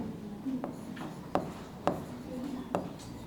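Chalk or marker strokes on a classroom board during a lecture, a steady scratchy rubbing broken by several sharp taps at irregular intervals, close and moderately loud, with no talking.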